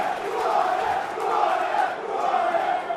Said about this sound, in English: Bradford's resolve and resilience in defence rewarded with a loud raucous cheer.